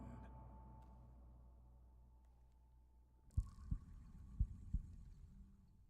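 Slow, muffled heartbeat thumps in a creepy horror-tinged role-playing video game, about four heavy low pulses coming in over a steady dark ambient hum, with no clear rattle of shackles standing out.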